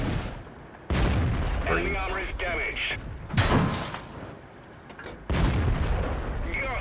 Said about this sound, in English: 4 shots and he's just outright obliterated